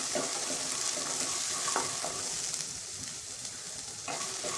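Green peas roast in a pan for matar kachori, giving an even, hissing sizzle with occasional stirring scrapes and taps, fairly quiet and close, with no voices.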